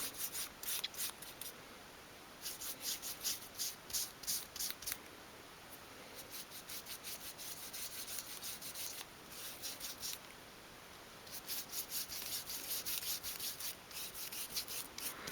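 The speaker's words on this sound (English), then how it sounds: "So I've got a few pieces of kitchen towel handy, and I'm just going to rub that on." Kitchen towel rubs steadily over a miniature 1/12th scale wooden coffee table, making close, dry, rhythmic swishing strokes in bursts with brief pauses.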